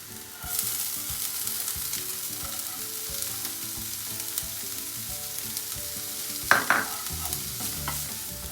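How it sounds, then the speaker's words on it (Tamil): Onions sizzling in a hot pan, a steady bright frying hiss with repeated soft stirring scrapes and one louder clatter near the end, close up and free of speech. "அடுத்து நம்மளோட வெங்காயம் ஆட் பண்ணிடலாம்."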